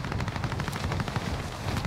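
Rapid automatic gunfire in the Warzone multiplayer battle royale, a steady dense stream of shots at even loudness throughout with no talking.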